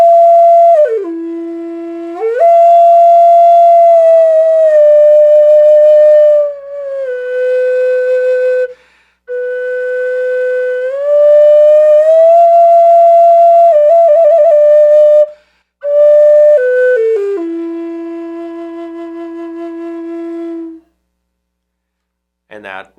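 A clear, loud whistled melody of sustained notes that rise and fall, with brief pauses between phrases and a low note near the end.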